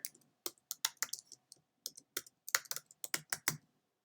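Keys clatter on a computer keyboard in irregular bursts of crisp, close clicks, about a dozen distinct strokes over a few seconds with brief pauses between, no voices present.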